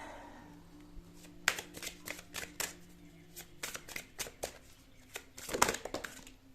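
A deck of tarot cards is shuffled up close, giving a string of quick, crisp riffling bursts with short pauses, fairly quiet, with no talk.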